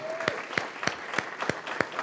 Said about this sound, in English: give Enbridge and Brent a round of applause of appreciation.